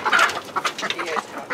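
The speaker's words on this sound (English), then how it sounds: "Grabbing chickens." Chickens, including a hen, cluck and chatter loudly and close by in a short busy burst, with no one speaking.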